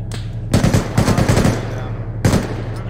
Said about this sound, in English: Oh, I jammed as soon as I started firing.